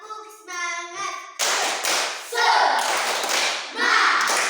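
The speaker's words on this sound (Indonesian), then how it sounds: "Tepuk semangat." Schoolchildren in an Indonesian Catholic primary school classroom do a rhythmic spirit clap, a chanted call of voices followed by a burst of loud, quick group claps and taps, close and lively.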